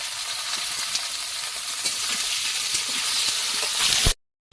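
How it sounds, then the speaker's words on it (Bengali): Carrot and tomato fry with cabbage in hot oil, a loud continuous hissing sizzle with faint stirring that stops abruptly just before the end. "গাজরের সঙ্গে কাঁচা টমেটোটাও ভেজে নেব"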